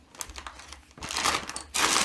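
Plastic bags holding model kit parts crinkle and rustle as they are handled, soft at first and then louder, denser crackling with short bursts near the end.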